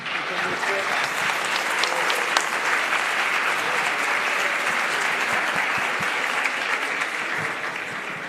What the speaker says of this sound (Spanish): por favor, recibámoslos con un fuerte aplauso